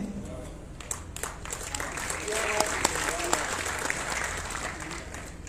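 Audience applause at a Hindi comedy poetry gathering (hasya kavi sammelan): a moderately loud, steady patter of many hands clapping that swells slightly partway through and continues to the end.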